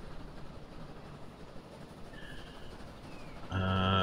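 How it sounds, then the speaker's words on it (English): A train runs on rails in Transport Fever 2 on a tropical line, with a steady low rolling rumble throughout and a brighter tonal horn-like swell rising near the end. "that train ahead of us is the other one on this line"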